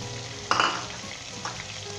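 Keema with tomatoes and spices frying in a pan, a burst of sizzling and stirring swelling up near the start, then settling into a softer, steady fry with a brief scrape later on.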